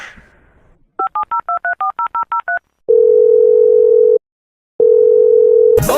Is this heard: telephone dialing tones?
yes